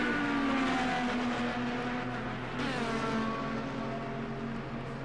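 Simulated IndyCar race cars roar past in an online sim racing grand prix, a steady blend of high-pitched engine drones with one car's pitch sweeping as it closes in on the pack, moderately loud and without talk.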